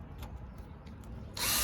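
Quiet background hum, then a power drill abruptly whirs into a loud, high grinding spin at the very end.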